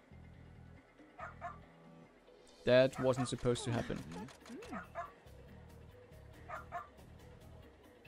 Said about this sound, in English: This bark of the dog also gets very fast, very annoying, because it's always the same sound file.